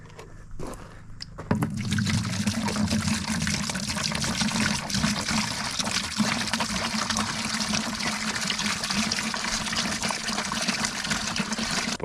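SH liquid being poured into a pressure washer tank, a steady gushing, splashing pour that begins after a brief rustle and runs on unbroken and close.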